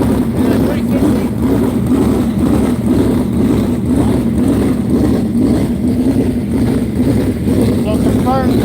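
A 360 sprint car engine runs at South Texas Speedway in Corpus Christi, a loud, steady, throaty drone that holds constant throughout, with people talking over it.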